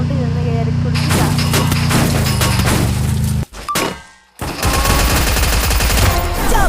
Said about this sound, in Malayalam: അതിൽ കയറി നമുക്ക് അപ്പുറത്തോട്ട് ഒരു വെടിവെക്കുന്ന സൗണ്ട്